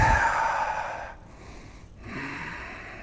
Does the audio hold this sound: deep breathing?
yes